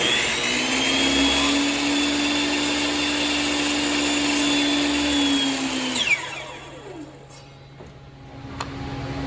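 A power saw whines loudly and steadily while cutting wood molding for a mirror, then winds down and spins to a stop, leaving quiet shop noise with a faint click.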